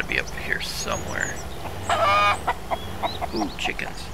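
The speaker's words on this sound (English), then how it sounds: "Ooh, chickens." Chickens in the Mist Survival video game cluck in scattered short calls against an outdoor ambience, with a denser, louder burst of clucking in the middle.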